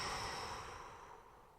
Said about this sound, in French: Et relâche en soufflant fort par la bouche.